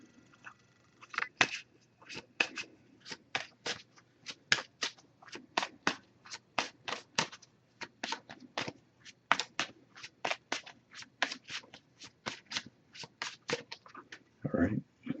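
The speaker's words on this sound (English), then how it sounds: "we'll give it a few more shuffles and cut the deck and pull a card" An oracle card deck being shuffled and cut by hand for a tarot reading, a rapid run of crisp, close card riffles and taps in an uneven steady rhythm, ending in a brief rustling flurry, with no talk.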